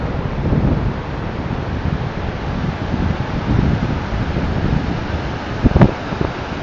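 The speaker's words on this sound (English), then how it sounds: "Just have a look at these magnificent waves coming in here at Polzeath to finish." Surf rolling in at Polzeath beach on an early morning, a steady wash of breaking waves under gusty wind buffeting the microphone, with a short louder rush near the end.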